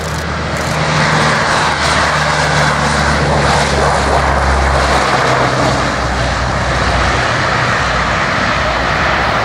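Lockheed C-130 propeller transport flying at a rehearsal airshow in Rome, Georgia, a loud, continuous droning roar of turboprop engines that fills the whole stretch without letup.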